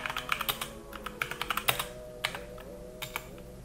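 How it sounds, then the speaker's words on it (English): Rapid clicking of a computer keyboard during a typing test, keystrokes arriving in quick uneven bursts with short pauses, close and moderately quiet, no talking. "I'm gonna do a typing test on 10 fast fingers while I'm looking down at the keyboard"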